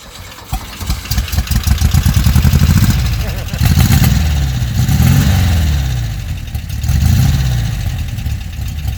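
A 1970s VW kit car running a 1960s Beetle engine with aftermarket mufflers, revving up and settling back in several loud, nearby pulls with a throaty air-cooled burble, while people talk over it.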